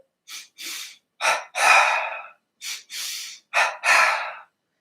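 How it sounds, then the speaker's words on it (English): Rhythmic breathing exercise in a double pattern: pairs of sharp, loud breaths, a short burst followed by a longer one, repeated twice, close and clear with silence between. "and that is a rhythmic breathing, the double, I call it"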